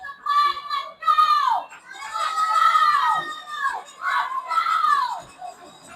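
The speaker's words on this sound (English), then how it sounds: "The Toledo fans cheering their guys on." Hockey fans cheer at the Hyde Park Ice Pavilion during a playoff game, loud shrill wavering shouts and whoops rising and falling in repeated bursts for several seconds.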